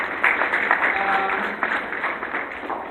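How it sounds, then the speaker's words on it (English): Brief audience applause at an indigenous peoples symposium in the Caribbean, a short burst of clapping from a hall crowd lasting a few seconds, fairly close and even. "Could we please give them a round of applause?"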